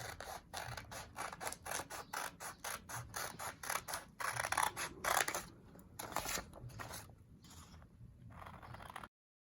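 Scissors snip through fabric while a face mask pattern is cut out by hand, a steady run of crisp, close, rhythmic cuts that thin to sparser snips toward the end, with no talking.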